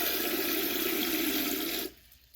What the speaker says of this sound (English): Here's the sprayer and has very good power